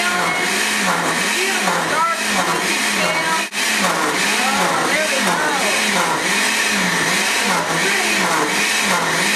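A blender whirs loudly and steadily while blending a green smoothie of kale and arugula, its motor pulsing with a regular rhythm throughout, close and continuous with only a brief dip midway.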